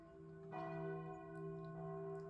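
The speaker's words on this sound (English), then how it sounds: "A little bell shakes in the breeze." A small bell rings faintly in a breeze, two soft struck tones with long sustained ringing overtones, quiet and alone.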